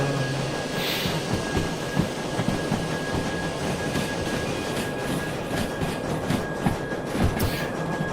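Engine 69, a tunnel-motor-style SD locomotive in Derail Valley VR, rumbles along the rails with steady clickety-clack of wheels over joints and a constant engine drone, loud and continuous.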